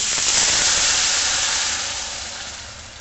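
Water poured into a hot pan of tempered spices and turmeric gives a loud, close, broad hiss of sizzling steam that slowly fades over a few seconds. No one speaks.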